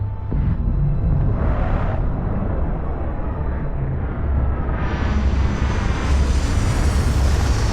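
A spaceship sets down in the sci-fi game Starfield, a continuous loud rumbling roar whose upper hiss rises and brightens toward the end, with no voices.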